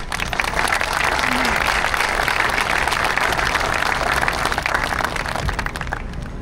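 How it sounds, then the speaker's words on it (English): Sustained, dense applause from a crowd at the 2025 National Vietnam Veterans Day Memorial Parade for a Command Master Chief, loud and steady throughout before easing slightly at the end. "would you please give a big round of applause to Command Master Chief Isam"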